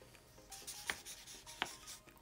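A grey felt-tip marker squeaks and rubs softly across paper in short strokes, faint and close with no voices.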